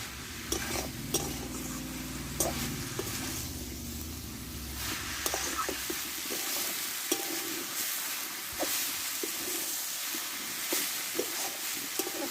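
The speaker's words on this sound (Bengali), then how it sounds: "ছয় থেকে সাত মিনিট মতো আমি ভালোভাবে কপিটাকে কষে নেবো" Dried cabbage sautés in a pan, a continuous crackling sizzle punctuated by frequent sharp scrapes and clinks of a spatula against the metal, close and moderately loud, with no talking.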